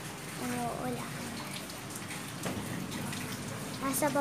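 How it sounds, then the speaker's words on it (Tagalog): Steady rain from a typhoon patters down in a continuous wash of noise in Camarines Sur, Philippines, with faint voices and small sounds mixed underneath. "hindi na tumitigil yung ulan guys"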